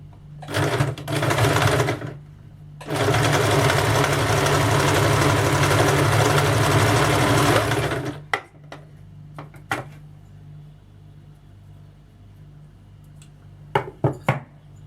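Sewing machine stitching blouse fabric, running in a loud steady whir for a short burst and then a longer stretch, followed by a few faint clicks and taps, close and without talk.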